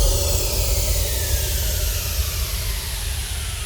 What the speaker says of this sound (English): It's just a simple little patch here that's got some reverb on it.